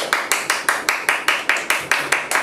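A classroom of students clapping hands together in unison during an English lesson activity: about a dozen sharp, evenly spaced claps in a steady rhythm, close and clear with no talking.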